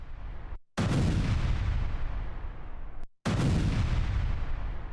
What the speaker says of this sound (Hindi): तभी ताबड़तोड़ बमबारी शुरू हो जाती इजराइल की तरफ से सीरिया पर